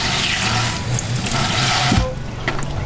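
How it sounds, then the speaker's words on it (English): A pump runs with a steady rushing, water-like hum, loud for about two seconds, then cuts off abruptly, leaving faint background noise. "you can hear the pump running."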